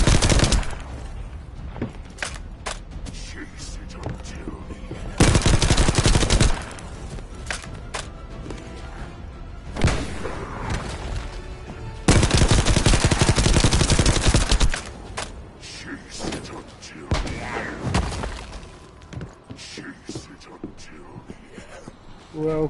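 Gunfire in the shooter game The First Descendant comes in several loud bursts of rapid automatic shots separated by quieter gaps with footsteps, and a player talks between the volleys.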